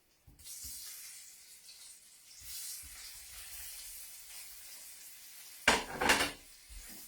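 Low carb gnocchi dropped into butter in a pan, a soft steady sizzle with clinks of utensils against the pan and a louder clatter near the end, close by with no talk.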